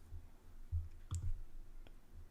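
A mouse click saving settings in Circle, a few soft, close, isolated clicks over quiet room tone, with no talking.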